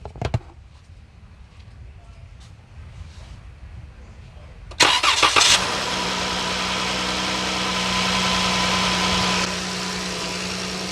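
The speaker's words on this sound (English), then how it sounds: "Engine must be running. Let's start the car." A Dodge Chrysler 3.6 Pentastar V6 cranks and catches at about five seconds after quiet shop ambience, then settles into a steady, loud idle with a faint ticking from the cylinder head.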